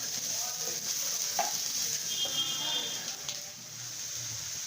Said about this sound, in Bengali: ডালটা ভাজা ভাজা হয়ে গেছে